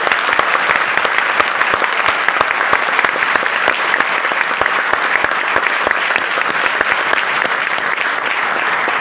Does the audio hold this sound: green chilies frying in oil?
no